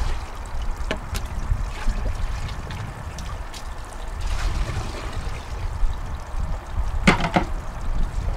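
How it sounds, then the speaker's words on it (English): Water is poured onto wet black beach sand in a GOLDROP gold concentrator, a close, steady trickling and splashing over a low rumble, with a few sharp clicks and knocks along the way. "Oh, first I have to add water to the sand. Make sure it's nice and wet."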